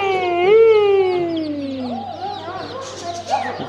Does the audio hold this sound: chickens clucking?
yes